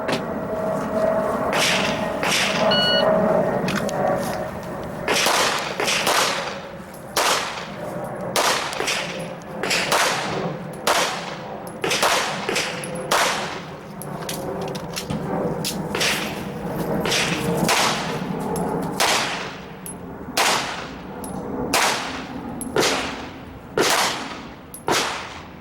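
Gunshots from a shooter running a stage at an IDPA pistol match at Mecklenburg Wildlife Club, sharp loud cracks fired in quick irregular strings with short pauses between volleys, over steady outdoor background.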